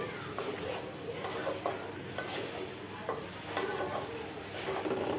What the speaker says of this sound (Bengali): ট্যাংরা মাছ। এটাকে ভালোভাবে কষিয়ে নিব।